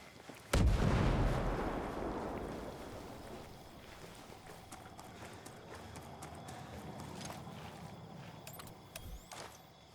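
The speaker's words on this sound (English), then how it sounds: "Let's make sure that we're further enough away before we explode that." Explosion in Ghost Recon Breakpoint, a single loud, close blast that booms and then rumbles away over several seconds into ambient noise.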